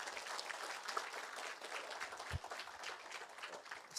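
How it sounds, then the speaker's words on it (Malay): Seminar audience in Miri clapping for attendees, a faint, distant spread of applause running evenly throughout with one louder thump partway. "Bagi tepukan kepada tuan-tuan dan puan-puan."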